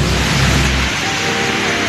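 Steady heavy rain hisses loud and close during a wet bicycle ride, a dense continuous wash with a low rumble fading after the first second.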